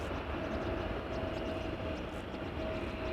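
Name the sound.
Delta Airlines airplane engines at Amsterdam Schiphol Airport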